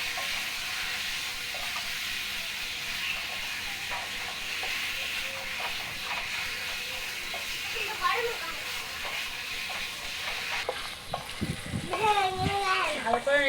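Chicken pieces with spices stirred and frying in a pan for a Bengali red chicken curry: a steady soft sizzle and hiss throughout, with a few light scrapes and clinks, and brief voices near the end.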